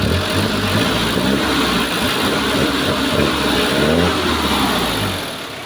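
Hyundai Grace diesel engine running steadily after an injection pump replacement, loud and close, a continuous mid-pitched rumble with slight rises in revs and no talk over it.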